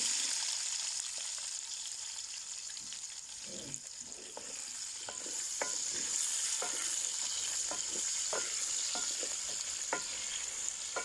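Halved kilo of potatoes frying in ghee, a soft steady sizzle with repeated scraping taps of a spoon stirring through the pan, quiet and alone without talk.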